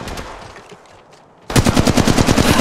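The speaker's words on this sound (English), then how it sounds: "I am taking fire." Rapid automatic gunfire in Apex Legends Mobile, a loud close stream of evenly spaced shots kicking in after a quieter stretch of softer game sounds and continuing to the end.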